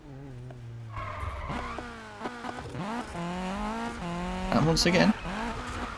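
A Volvo 242 racing in Need for Speed, engine revving through rising gear pulls with tire squeal and skidding, loud and close, with someone talking over it.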